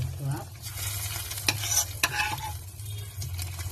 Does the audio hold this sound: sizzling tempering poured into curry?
yes